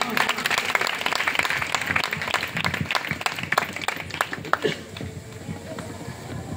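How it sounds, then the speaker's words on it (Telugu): An audience claps together in a steady burst of applause for several seconds at a church gathering, then thins out. Voices are mixed in. "అందరూ చప్పట్లు కొడదామా?"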